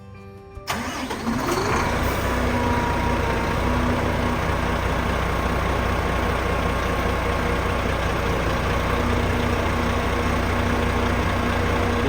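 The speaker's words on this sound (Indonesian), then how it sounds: "Ya, kita start mesinnya. Jadi mesinnya ini dia memakai mesin Volvo D11 ya." A Volvo D11 diesel engine in a Skylander R25 coach bus cold-starts with a brief cranking burst, then settles into a loud, steady, rumbling idle with a constant high whine, close by and uninterrupted.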